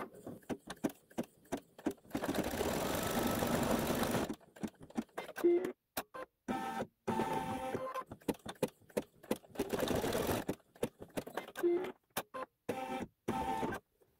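Sewing machine stitching a Haunted House quilt block: rapid mechanical whirring runs in bursts of a second or two, broken by short pauses and small clicks as the fabric is repositioned, close and fairly quiet.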